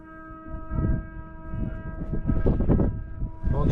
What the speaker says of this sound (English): Whitehaven Pier. Foghorns.